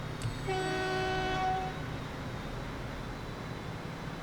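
A train horn sounds in the Transport Fever game, a steady multi-tone blast lasting about a second over a constant rumbling background, then fading out.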